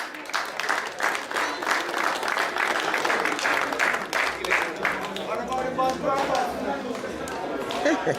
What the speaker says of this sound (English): I want everyone to raise their hands and give them a round of applause